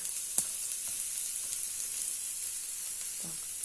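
Shallots sizzling and frying in a pan, a soft continuous hiss with a few faint stirring clicks, heard fairly quietly and close with no voices.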